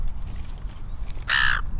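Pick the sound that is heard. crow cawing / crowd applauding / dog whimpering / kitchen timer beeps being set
crow cawing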